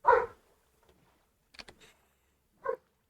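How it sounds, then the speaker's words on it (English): A dog barks once up close, then gives a few short whimpering yelps and one more brief bark in an otherwise quiet room. "The dog is clearly upset."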